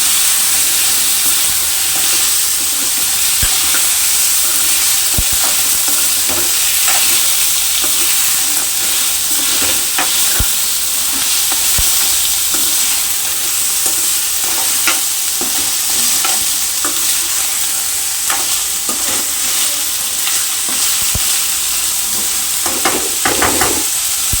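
Crab curry being mixed and fried in a pan, a loud continuous sizzle and hiss with repeated scraping stir strokes and occasional clicks of the spoon against the pan, close up throughout.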